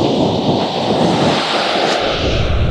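Outdoors at a fishing competition, wind buffets loudly and close with a dense rushing noise, like hard rain or surf mixed into the gusts, and no speech.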